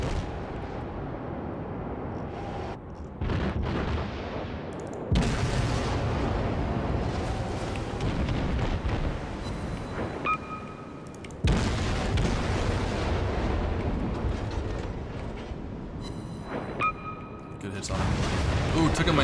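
Heavy naval guns from warships in World of Warships fire in several deep booming salvos with rumbling tails, loud and close, with game effects and short tonal beeps between shots.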